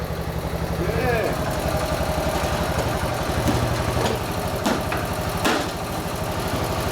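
A motorcycle engine idling steadily with a slightly raised idle speed, after earlier backfiring, its low rhythmic thrum running continuously and close by, with speech-like sounds and a few brief clanks over it.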